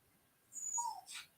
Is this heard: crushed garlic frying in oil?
no